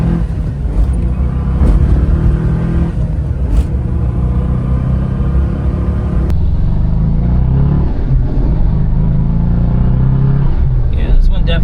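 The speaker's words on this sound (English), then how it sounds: "Nice little acceleration pull." A Daihatsu Move kei car pulls away in first gear from inside the cabin, its small engine droning and rising in a steady loud rumble over about ten seconds, with a clogged exhaust and someone talking over it.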